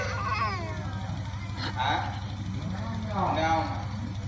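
A voice imitates a cat, drawing out a few wavering meows over a low, steady engine-like hum in the background.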